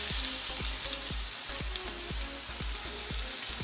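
Tomato, onion and garlic fry in a pan for a spicy salsa to go with Mexican beef tacos, giving a steady, close sizzle that continues without a break.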